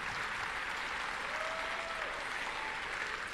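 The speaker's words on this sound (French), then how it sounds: "Oui, vous pouvez applaudir ces pépites." Sustained audience applause at a French business event on executive health, a dense, even wash of many hands clapping throughout, fairly distant and steady with no voices over it.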